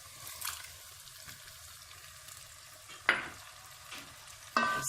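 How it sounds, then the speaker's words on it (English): Blended tomatoes and peppers cooking in a pot for Nigerian yam porridge, a soft low bubbling simmer punctuated by two sharp stirring clinks of a spoon against the pot. "So this moment I'll be adding my blended tomatoes and peppers."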